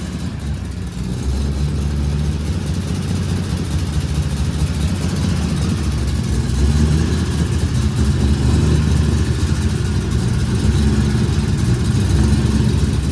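A 1000HP Lexus SC400 engine with aggressive cams runs loudly and continuously, a rough, heavy drone that holds steady and rises slightly as it is revved, heard up close with no talk.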